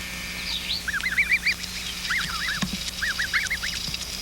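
Geese honking as they run, a quick series of repeated nasal honks in short bursts over a constant background hum, fairly close and clear with no voices.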